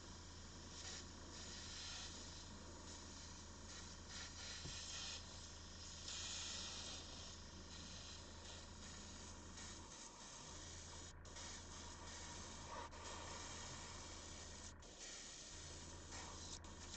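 An airbrush sprays paint onto a heavily textured Mega Gargant miniature in a faint, steady hiss that runs nearly unbroken, with a couple of brief dips where the flow pauses.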